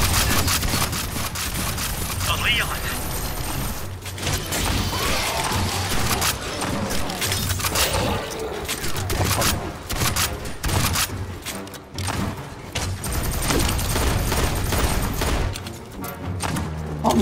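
Continuous heavy gunfire in the video game Aliens Fireteam Elite, a loud, dense fusillade of rapid shots with mechanical clatter that runs almost unbroken, with no voices.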